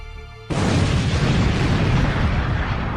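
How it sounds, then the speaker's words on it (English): Huge cartoon explosion from a Dragon Ball anime bursts in after a quiet half-second, a loud sustained rumbling blast that roars on for the rest of the clip. "A huge explosion is heard."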